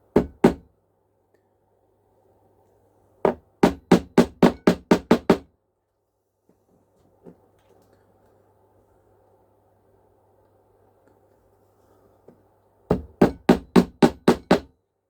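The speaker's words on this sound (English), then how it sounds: "just tapping my nails in with basher" Three bursts of sharp, rapid hammer taps driving nails into OO gauge model railway track sleepers, about six to eight quick blows each, separated by quiet pauses with faint background hum.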